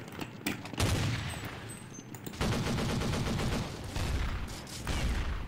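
Rapid bursts of automatic gunfire from Counter-Strike 1.6 on a snow map crackle loud and close, with several sustained volleys separated by brief pauses and no talk over them.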